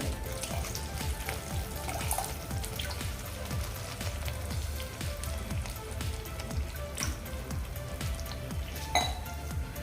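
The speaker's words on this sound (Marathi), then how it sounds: "आता यामध्ये मी आणखी एक ग्लास पाणी घालते" A glass of water pours steadily into a pan, a continuous splashing gurgle with small drips and clinks, close by and fairly even throughout, without speech.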